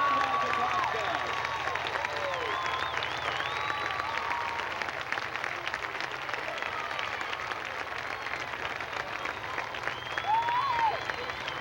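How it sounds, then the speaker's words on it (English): A crowd at an outdoor show in Germantown applauds the Budweiser Clydesdales, with sustained clapping and scattered cheers and whistles in the distance as voices chatter over it. "Please give a big round of applause to the Budweiser Clydesdales."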